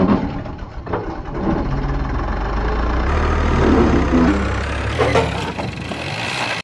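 A tractor engine runs steadily with a low, rumbling idle while the tractor and its trolley sit stuck in a large pit. The engine is loud and close, and its note rises slightly partway through.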